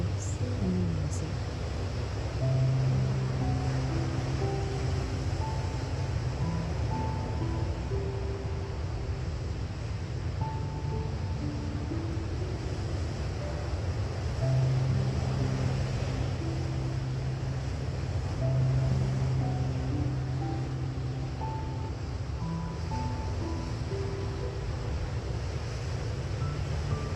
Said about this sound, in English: Continue to breathe while you listen to the ocean waves and the music.